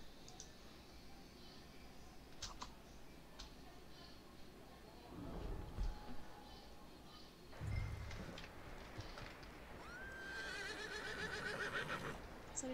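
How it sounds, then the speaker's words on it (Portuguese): A horse whinnies amid Detroit: Become Human game ambience with faint clicking and background chatter, the neigh rising briefly near the end over a steady mix. "Pega o cavalo, achei que era o meu cavalo"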